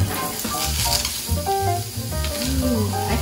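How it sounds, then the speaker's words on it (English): Pre-cut onions crackle and sizzle steadily in a hot Saladmaster pan, close and continuous, with occasional scraping and stirring sounds. "I can hear the sizzle already."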